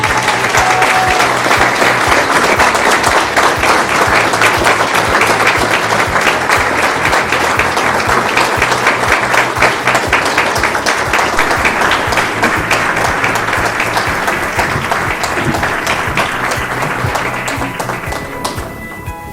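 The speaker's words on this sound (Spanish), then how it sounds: "muy fuerte aplauso para el creador y fundador del evento" A large audience applauds loudly and steadily for the creator and founder of an event, the dense clapping holding for nearly twenty seconds before tapering slightly at the end.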